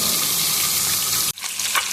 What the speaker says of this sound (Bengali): আমি ধীরে ধীরে মাছগুলোকে ভাজি যাতে মাছগুলো ভেঙে না যায়